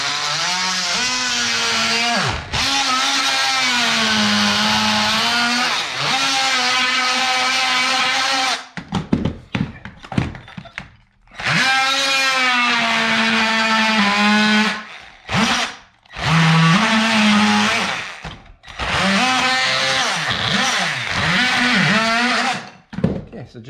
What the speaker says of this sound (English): I just use my little oscillating saw here to go in and trim them close.